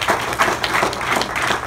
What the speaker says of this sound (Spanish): How many can give an applause to God?